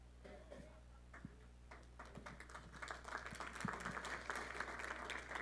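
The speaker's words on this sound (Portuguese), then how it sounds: "Aplaude muito, não, irmão." Congregation in a church starting to applaud, with scattered claps that build into fuller, denser clapping by the end, faint and heard over low background hum.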